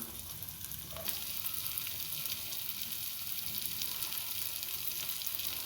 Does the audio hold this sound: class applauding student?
no